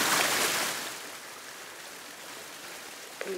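Water rushes through a mountain valley stream in spring, a steady broadband hiss that is loudest at the start and then settles into a softer, even flow, with no voices.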